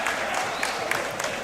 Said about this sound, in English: Crowd is going crazy after that performance.